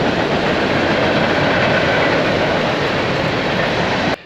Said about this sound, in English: There's a freaking train right behind me.